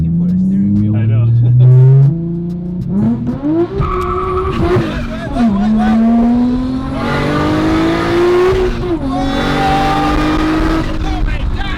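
A Nissan Skyline R34 GTR driven hard, engine revving up through the gears in loud rising sweeps with tire squeal and skidding, heard from inside the car as occupants talk and exclaim over it.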